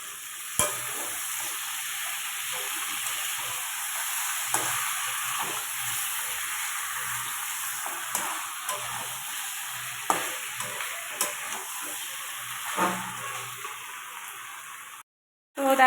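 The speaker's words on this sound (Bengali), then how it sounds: "আমার মাংস কষানো প্রায় হয়ে গেছে।" Chicken curry meat with potato sizzling and frying steadily as it is sautéed in a pan, a continuous close hiss broken by occasional stirring scrapes and clinks, with no talk.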